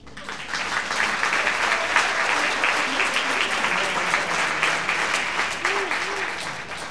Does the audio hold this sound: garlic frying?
no